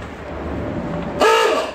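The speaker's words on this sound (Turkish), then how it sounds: "Kornası da çift bunun" A loud car horn honks once near the end, a harsh two-tone blare cutting in after low engine rumble.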